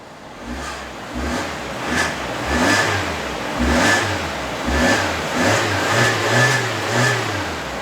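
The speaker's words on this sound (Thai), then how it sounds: "เดี๋ยวมาลองเหยียบเครื่องสักหน่อยนะครับ" A 2019 MG ZS 1.5 SUV engine revs repeatedly, rising and falling in several throttle bursts over a steady idle, close and loud.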